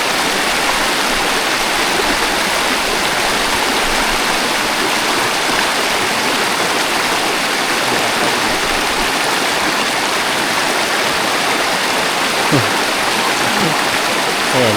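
A river crossed by horses on a rough trail rushes in a loud, constant wash of flowing water that fills the whole stretch, with no clear voices over it.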